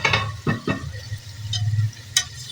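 Masala for fish curry frying in a pan while a spoon stirs it gently: close sizzling with several distinct scraping and clinking strokes in irregular rhythm, no voices.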